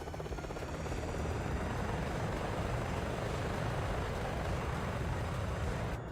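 A helicopter in the Flyout flight game gives a steady, loud rotor and engine drone that holds evenly for the whole stretch with no talking.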